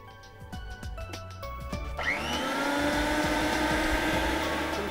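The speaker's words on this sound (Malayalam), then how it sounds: "ആദ്യം ഒന്ന് ജസ്റ്റ് ഒന്ന് മിക്സിയിലിട്ട് അടിച്ചെടുക്കാം" Mixer grinder blending soaked rice and grains for dosa batter starts up after short taps, then runs as a steady, loud, whirring grind that continues to the end.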